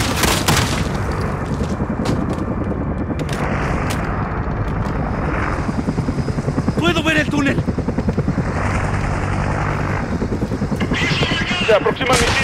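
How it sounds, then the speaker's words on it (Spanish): An attacking helicopter in the Call of Duty: Modern Warfare video game roars through a dense battle mix, buried under continuous gunfire, booms and game noise. "¡Ese helicóptero te va a atacar!"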